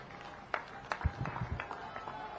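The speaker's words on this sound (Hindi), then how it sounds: "ताली बजते रहना चाहिए" Crowd at a Priyanka Gandhi public rally in Chhattisgarh clapping, scattered and fairly distant, with irregular louder bursts of applause over a low murmur of background noise.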